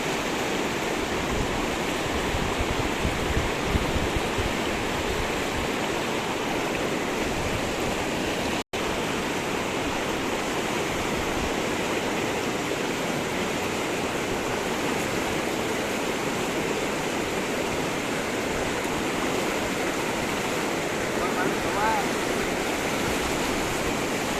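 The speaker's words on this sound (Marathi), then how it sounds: "वाहत्या पाण्यामुळे तुम्हाला आवाज खूप कमी येत असेल" River water flowing fast near a bridge, a dense, unbroken rushing wash that stays loud and even throughout, with no pauses and no voices clearly standing out.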